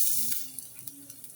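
Garlic sautés in a hot pan with a steady bright sizzle, broken by a few soft stirring scrapes.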